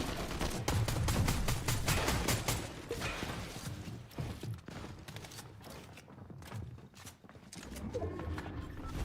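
Rapid Radgun bursts in a Fortnite match, loud repeated sharp shots in quick rhythmic volleys, pausing briefly then resuming, layered over game background noise with no talking.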